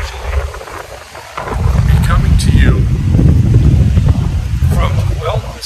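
Wind gusts buffet a parked RV, a steady low rushing roar that swells after a quieter start and holds loud, with occasional faint higher rattles over the broad noise.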